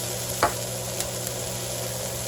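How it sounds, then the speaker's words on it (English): Onions, peppers and tomatoes sauté in a pan for Caribbean-style fried cabbage, a continuous close sizzle with a few stirring knocks and scrapes. "after those onions and peppers have been sauteing for about 3 to 4 minutes, you want to go ahead, and this is optional, and add your tomatoes"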